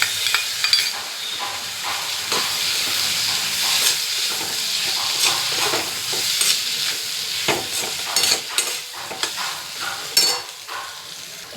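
A near, steady sizzle as poppy seed paste fries in a pan, with repeated stirring scrapes and knocks of the spatula and a brief hiss of steam, and no speech.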